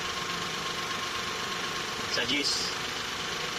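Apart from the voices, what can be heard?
F6A engine idling after timing belt replacement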